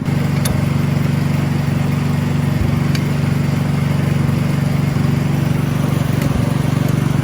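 A small engine is turned over by hand with its starter cord, slowly pulled against light compression after oil was added to the cylinder, giving a loud, steady mechanical churning with faint periodic clicks throughout.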